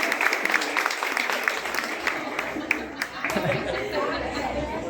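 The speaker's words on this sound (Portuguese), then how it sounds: "Queria também umas palmas para eles" An audience at a Mother's Day school event claps steadily nearby, with crowd chatter and voices mixed throughout.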